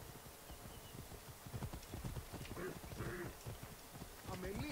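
Horse galloping in the video game Assassin's Creed Origins, a fast rhythmic clip-clop of hooves running steadily under game music and voices speaking German.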